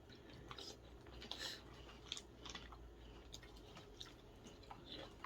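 Someone chews crunchy Frosted Flakes cereal close up, with faint irregular crunches and moist mouth sounds over a low background hum.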